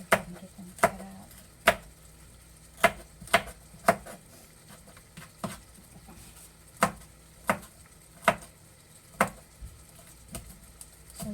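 A knife chops washed, peeled celery and other vegetables on a cutting board for chicken and dumplings. Distinct close, sharp knocks come at an uneven but steady pace, about a dozen strokes with quieter taps between them, and no talking.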